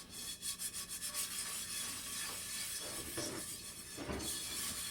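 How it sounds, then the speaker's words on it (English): Salt is scrubbed around a cast iron skillet with a cloth, a gritty rhythmic rubbing in quick strokes that becomes a continuous rasping scour, close up and with no one talking. "Rub that salt around."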